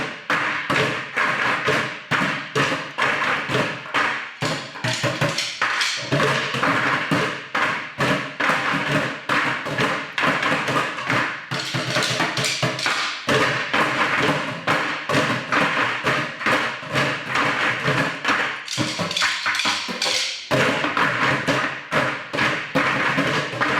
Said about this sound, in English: Here are some clips of us drumming.